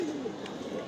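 Female pigeons bathing give a short, soft coo against a steady wash of background noise.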